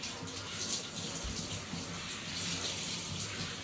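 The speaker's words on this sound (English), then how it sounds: "I'll put the jet on his face gently, and he'll then shake the water off." Steady, close hiss of a water jet spraying over a dog during a bath, a continuous broadband rush with slight swells and no pauses.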